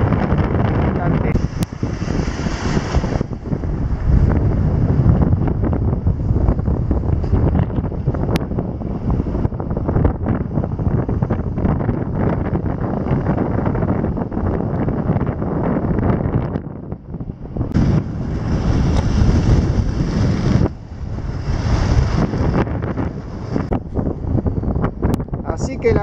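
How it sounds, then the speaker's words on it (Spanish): Strong sea wind roars steadily across the microphone on a fishing boat offshore under a southerly swell, loud and continuous with brief lulls. "La cosa floja hasta ahora, puro viento"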